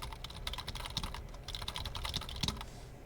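Fingers type on a computer keyboard while working in a Google Docs document, giving a quick, steady run of light clicking keystrokes, close and fairly quiet.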